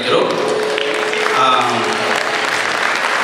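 Audience applause welcoming speakers onto the stage at a Tamil debate event (patti mandram), a steady wash of clapping with a voice speaking over it.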